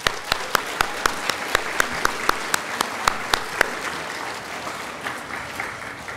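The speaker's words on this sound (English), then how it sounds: "let's do a round of applause for all the students" Applause for students at a junior division science fair awards ceremony: a small group clapping in a sparse, evenly spaced rhythm, fairly close, thinning out toward the end.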